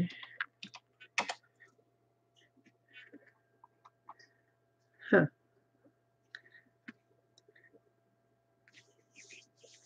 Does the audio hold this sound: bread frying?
no